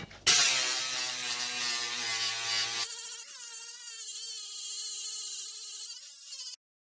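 An angle grinder fitted with a flap disc smooths down arc welds on steel, a loud, steady, high-pitched whine that drops in pitch partway through as the disc bites, then cuts off abruptly.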